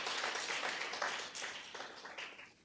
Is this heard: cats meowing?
no